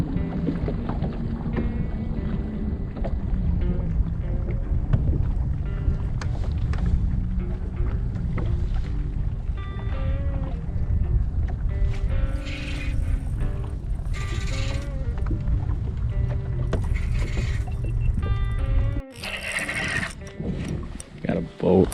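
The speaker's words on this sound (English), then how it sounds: "Got a boat literally right next to me." A boat engine drones loudly and close on a lake for the whole stretch, with water sloshing and some mechanical clanks, briefly cutting out near the end.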